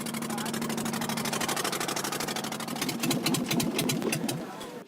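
A small boat outboard engine on the Aegean Sea runs steadily with a buzzing, pulsing drone, growing rougher and louder near the end before cutting off abruptly as it fails.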